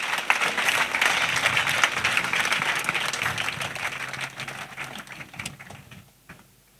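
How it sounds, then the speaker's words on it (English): A church congregation claps together at a salvation and healing weekend service, dense sustained applause that is loud at first, thins out gradually and fades away toward the end. "Let us clap together."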